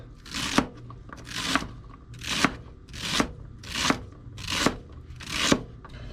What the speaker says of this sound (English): we're just going to cut up some celery, leaves and all